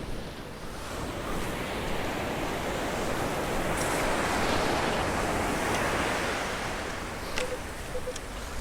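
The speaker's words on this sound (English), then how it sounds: "And the tide is coming in, and there's a set. So we have waves and tide." Ocean surf rolls in steadily at Doheny State Beach in Dana Point, California, as the tide comes in, a broad continuous wash of breaking waves close by that swells slightly in the middle, with no talking.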